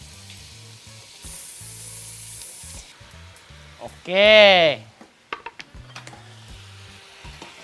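Meat hits a hot pan with a loud, sudden sizzle that settles into steady frying, with clattering utensils and a brief spoken word.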